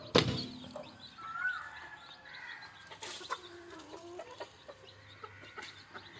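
Native country chickens cluck and squawk intermittently in a quiet yard, one sharp loud call at the start followed by softer scattered clucks.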